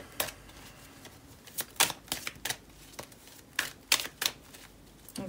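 Tarot cards are shuffled by hand close up, giving a run of quick, crisp riffling bursts and soft slaps in irregular clusters over a few seconds.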